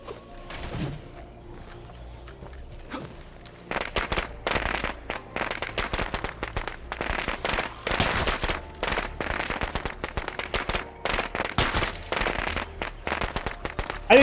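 Grenade blast and gunfire in an Undead Labs shooter game: quieter game sounds, then from a few seconds in a dense, sustained run of sharp cracking shots and bursts, loud and continuous to the end.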